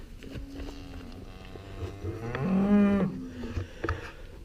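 Dairy cows on a farm give a long, loud moo that swells in the middle. Softer lowing and hoof shuffles come before and after it, with nearby farm ambience.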